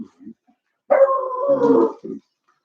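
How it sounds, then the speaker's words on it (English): A dog lets out one drawn-out, howling bark in the early morning, loud and close, framed by a few short quieter yelps in an otherwise quiet setting. "All this barking early in the morning."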